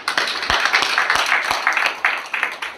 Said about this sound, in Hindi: हमारे गुड्डू द्विवेदी के लिए जोरदार ताली होनी चाहिए।